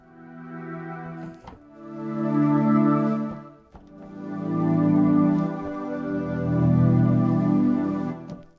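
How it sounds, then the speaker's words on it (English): A dry Angelic Pad preset from the Vital synth, reverb off, plays sustained, evolving chords in three long swelling phrases with a faint vinyl-like sizzle at the top. "And I'm using the preset Angelic Pad."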